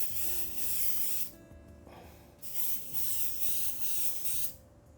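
Colani airbrush spraying paint with a 1.2 mm needle in bursts, a steady close hiss starting and stopping several times with short quiet gaps between, a faint hum underneath.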